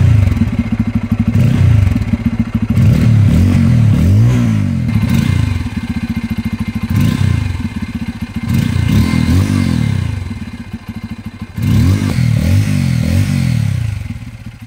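A Bajaj Pulsar N250 motorcycle with a dual-barrel exhaust is ridden and revved through repeated gear changes. It gives a deep, grunty, close-up exhaust note that rises and falls, with brief drops between throttle pulls.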